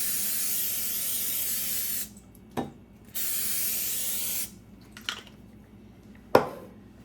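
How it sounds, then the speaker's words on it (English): Cooking spray hisses onto a pan in two sustained bursts, each lasting about two seconds, separated by quiet gaps with a few light clicks and taps, recorded close up. "you spray your pan."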